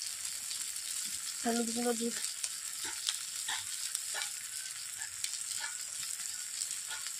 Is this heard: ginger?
yes